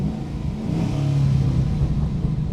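A Holden Commodore VF SS V8 with an X-Force exhaust and 6-speed manual revs up close and loud, a steady deep engine roar with rough crackle in the exhaust note.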